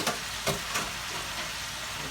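Chicken wings deep frying in hot oil, a steady close sizzle with a few brief bubbling bursts, no voices.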